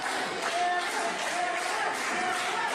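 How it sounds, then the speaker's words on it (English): Crowd at an All-Star Pro independent wrestling show before the opening bell, a dense, steady roar of cheering voices that fills the hall without a break. "The crowd's ready. You hear them come alive."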